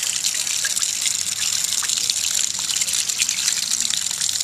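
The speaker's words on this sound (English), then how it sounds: "let the air into the tank and it flows out better." Water gushes and splashes steadily out of a camper's six-gallon hot water tank during winterizing, a bright, continuous close-up flow with a few faint voices underneath.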